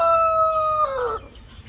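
A rooster on a farm gives one loud, close crow with a long sustained tone that breaks and drops at the end, standing alone over quiet background.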